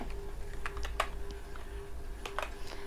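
Password keystrokes on a computer keyboard, entered while configuring NTP authentication in Cisco Packet Tracer: a short run of light, separate clicks at an uneven pace, close to the microphone, with no talking.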